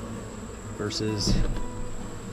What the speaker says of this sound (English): I just popped the lid on 20, and they have a pretty healthy looking amount of bees